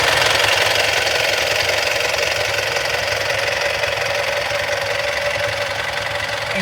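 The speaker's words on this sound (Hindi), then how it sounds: "इंजन की साउंड ही बता देती है कि गाड़ी के अंदर कितनी ताकत है" An SML GS Samrat 21-foot 6.9-ton truck's engine idles steadily and loudly up close, a constant rough diesel clatter and rumble with no break and no voices.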